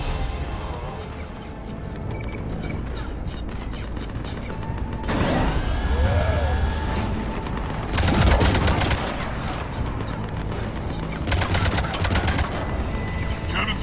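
Ship cannons firing in Mass Effect 3 on Omega, booming in heavy repeated volleys mixed with crashing impacts and sci-fi whines, loud and dense across the whole stretch.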